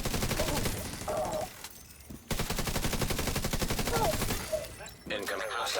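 Video game turrets fire in rapid, continuous bursts of gunfire that run through most of the clip with brief pauses, loud and close, while a voice speaks over part of it.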